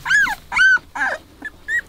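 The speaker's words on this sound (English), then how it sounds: "The Rouge is definitely a very good natured dog" A young Labrador dog whimpers up close, giving four or five short, high whining cries in an uneven rhythm with brief quiet gaps between them.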